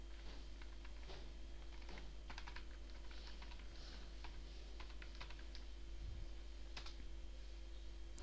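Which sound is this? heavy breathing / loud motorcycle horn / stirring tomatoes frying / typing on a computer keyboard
typing on a computer keyboard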